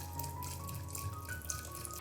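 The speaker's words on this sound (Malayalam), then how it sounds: "ഇതിലേക്ക് ആവശ്യത്തിനുള്ള വെള്ളം കൂടി ചേർക്കാം" Water pours into quick tiffin sambar cooking in a pressure cooker, a steady close trickle and splash with faint dripping, continuous for about two seconds with no talk.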